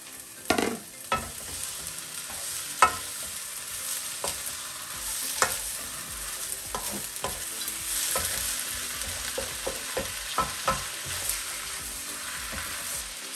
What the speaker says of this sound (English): Then we are going to add in our noodles straight away.